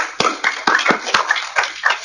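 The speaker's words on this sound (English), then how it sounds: "Round of applause, Chris." Applause closing a talk at a research seminar: a few loose claps, close and uneven, over a hum of room noise, with no speech.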